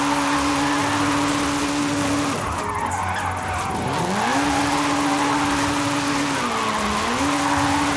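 A Honda Civic drifts downhill with the e-brake pulled, its engine droning loud and close while tires squeal through the corners, the pitch dipping and rising as the car slides and recovers.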